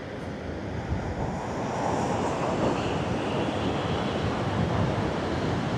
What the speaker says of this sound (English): But look at those waves. That's crazy.